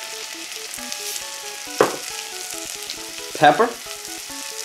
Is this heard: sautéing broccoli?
yes